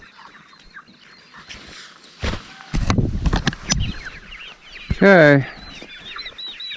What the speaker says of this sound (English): Chickens are happy, they've got water.